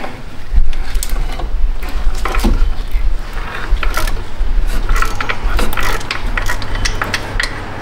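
A ratchet spins bolts out of a Chevrolet Trax water pump, producing rapid clicking pawl ticks in close, loud bursts with metallic rattles between, continuing steadily.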